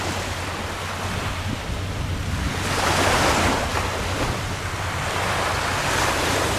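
Ocean surf rolling onto the beach at Koh Samui, Thailand, a steady wash of waves with swelling surges, mixed with wind buffeting the microphone, no voices.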